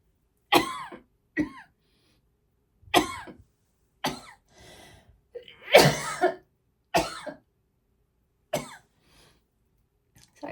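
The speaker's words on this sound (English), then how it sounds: "Sorry about the coughing, guys." Repeated harsh coughs in short bursts, some single and some in quick pairs, close to the listener with quiet gaps between them.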